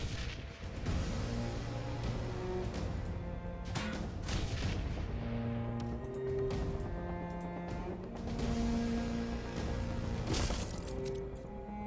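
Grenade blasts and combat effects from the Shadowrun: Hong Kong video game, a continuous dense mix of booming impacts layered over tonal game music, loud throughout with no voice.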